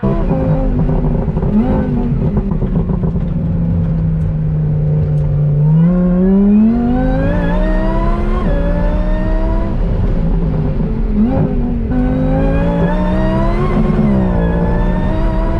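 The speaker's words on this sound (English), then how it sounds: "That supercharger absolutely whines" A supercharged Lamborghini accelerates hard around a race track, its engine roaring loud and steady as the pitch climbs through gear changes, with a high supercharger whine riding on top the whole time.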